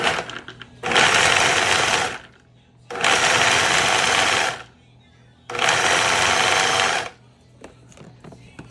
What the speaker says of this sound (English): I'm not gonna grind it totally, but I'm gonna make it quite small.